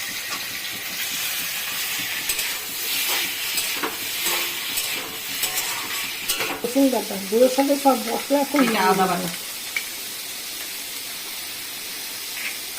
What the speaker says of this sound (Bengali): এখন আমি পনিরটা ভেজে নিব